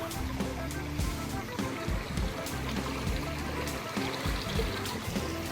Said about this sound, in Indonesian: Jadi di depannya ada sungai kan?